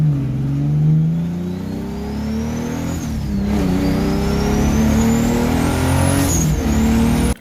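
A turbocharged drift car fitted with a Pulsar GTX3076R turbo revs hard up close, its engine note climbing in long sweeps with a thin rising turbo whine above, no voices.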